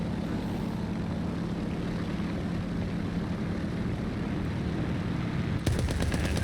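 Cannon and machine-gun fire from a J2M2 fighter in War Thunder, a steady dense rattle over droning engine noise, ending in a sharper burst of shots near the end.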